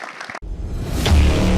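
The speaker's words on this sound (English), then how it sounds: "please a round of applause for the panelists" A conference audience at Bitcoin 2023 in Miami breaks into applause for the panelists, the clapping swelling from a brief hush into a loud, sustained wash.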